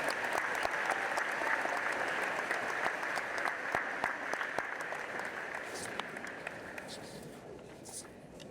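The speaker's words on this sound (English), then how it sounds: "Let's one round of applause for all of our student speakers" Applause from a convocation audience for student speakers, dense clapping that starts full and slowly thins and fades over several seconds.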